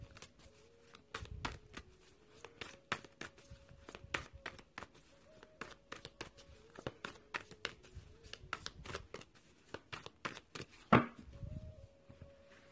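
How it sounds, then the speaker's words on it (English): Oracle cards being shuffled by hand in rapid, repeated riffling snaps and slaps that run steadily throughout, with a soft hum underneath and no talking. "So I'm going to shuffle on the Divine Oracle first of all."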